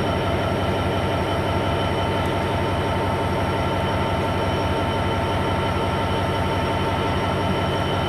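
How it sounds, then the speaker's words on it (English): A Freightliner Class 66 diesel freight train passes through Shrewsbury, a loud, continuous engine drone and rolling wagon rumble that holds steady throughout, close by with no voices. "Here's a Freightliner Class 66."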